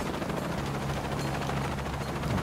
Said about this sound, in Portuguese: Cara, tô no helicóptero.